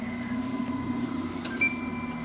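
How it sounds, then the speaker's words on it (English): A constant mechanical whir with a steady hum and faint high whine from several arcade circuit board cooling fans running close by in a game room, with no talking. "I'm sure you can hear the fans are like jet engines"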